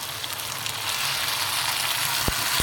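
Blended tomato and green chili paste poured into chicken frying in a pan for biryani, raising a steady, close, broadband sizzle that grows slightly louder, with a couple of faint soft knocks near the end.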